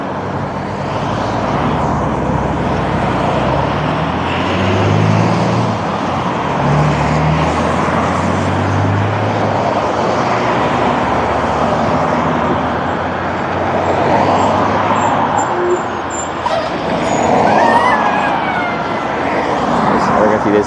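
Road traffic rushes past steadily at an interstate junction, a loud continuous roar of passing vehicles with swelling and fading pass-bys.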